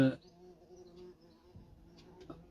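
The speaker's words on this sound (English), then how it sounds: "There, that wasp is really annoying" Wasp buzzing around an outdoor garden spot near a terracotta pot, a faint steady drone that wavers as it moves, with a brief louder knock at the start.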